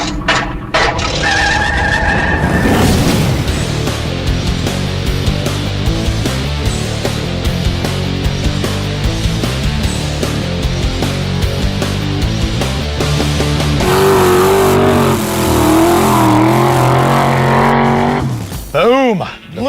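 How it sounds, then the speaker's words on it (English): The original Vette Kart, a rusty Corvette-based kart, tips up onto two wheels with a loud, sustained engine roar and tire skidding, ending in sharp squeals; voices shout over it. "We're driving on 2 wheels!"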